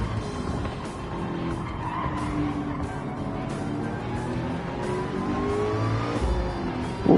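Race car tires spinning and squealing on the straight at Daytona in Gran Turismo 7, a continuous loud screech over a droning engine, with a sharp thump at the very end.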